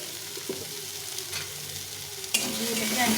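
Boiled chickpeas sauté in a pan with turmeric and salt, a soft frying hiss with faint stirring taps, then a sharper sizzle burst partway through that stays a little louder.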